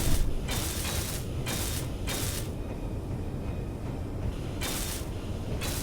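Blocks are being welded in the Space Engineers video game: a steady mechanical whirring and ratcheting runs throughout, broken by repeated short, bright bursts that pulse on and off.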